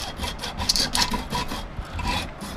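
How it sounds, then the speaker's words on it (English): A hacksaw cuts through the metal housing of a cold mist humidifier being scrapped for its copper, the rasping strokes repeating steadily and close up. "And I'm going to saw through this."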